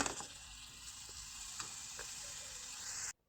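Chicken pieces frying in butter and oil, a soft, steady sizzle with scattered light pops and stirring ticks, quiet and close, ending abruptly in silence.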